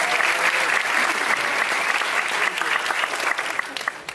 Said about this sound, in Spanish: Felicitaciones, un fuerte aplauso.